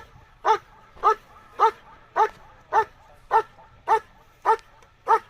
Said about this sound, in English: very happy with the power and the barking